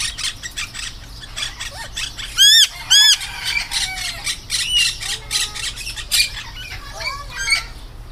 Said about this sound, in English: There's some parrots talking to us this morning.